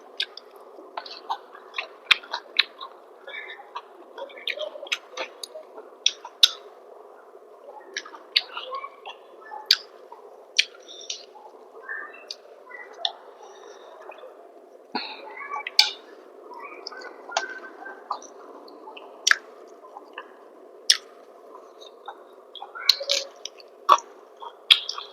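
Someone eats shrimp and rice slowly, chewing softly and close up. Small wet clicks and squishes repeat irregularly against a faint steady background.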